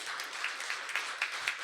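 Audience applause at a comedy show at the Comédie de Montréal, a steady wash of many hands clapping, moderately distant and continuous, with no voices over it.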